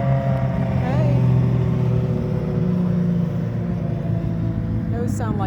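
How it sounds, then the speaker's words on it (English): Honda motorcycles pass by outdoors beside a vegetable garden, a continuous engine rumble and drone with rising revs, heard over steady background noise with a person talking nearby. "Those sound like Honda motorcycles."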